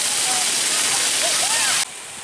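Rushing, splashing water at the Splash Bash splash pad in the Indiana Beach water park, a loud steady hiss with faint children's squeals that drops off abruptly near the end.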